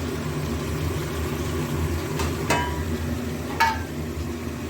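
Chicken fries in a pan for home-style chicken kasha, giving a steady low sizzle with two sharp scrapes from stirring partway through.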